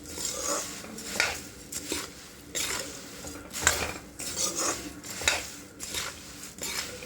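Masala puffed rice being mixed in a pan with a spoon, giving repeated scraping and clinking bursts of metal against metal in an uneven rhythm, close and fairly loud, with no talking.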